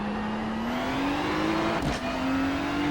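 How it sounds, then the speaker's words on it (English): A race car engine in a racing game at Monza holds a loud, steady drone with slowly rising pitch as the wheels spin, briefly broken by a short burst of noise near the end. "And we got a big wheel spin."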